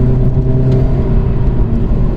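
A VW Golf Mk6 1.4 TSI fitted with a sports cat downpipe accelerates hard, its engine giving a loud, close, droning roar with heavy low rumble that stays constant, with no voices over it.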